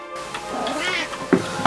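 A house cat meows softly a couple of times in a quiet room, the faint calls rising briefly under low background hum with no talk over them.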